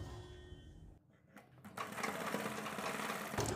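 A sewing machine stitches fabric triangles onto the back of a kurti, a short quiet pause giving way to a steady close whirring run of stitches.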